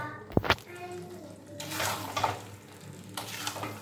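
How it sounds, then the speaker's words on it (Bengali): Boiled potato pieces stirred and fried in a spice paste for aloo dum, with scraping of the spoon and a soft sizzle rising and falling, plus a couple of sharp knocks at the start. "এখন এটাকে ভালো করে আলুর সাথে মশলাটা কষিয়ে নেব"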